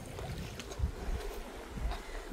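Brief stretch of babbling lake water, a continuous close washing sound with soft low thumps of wind buffeting the microphone, no voices.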